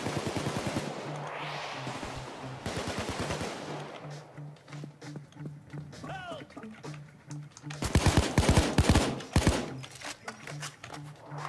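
Bursts of automatic gunfire from the video game Payday 2, rapid loud rattling volleys that stop and restart, with someone talking between and over the shots.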